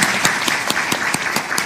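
During a panel on free expression and electoral reform, an audience applauds a speaker, with regular sharp claps standing out over a continuous bed of crowd clapping.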